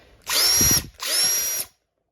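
A Milwaukee cordless hex drill whirs in two short bursts with a brief pause between them, close by and steady, then stops.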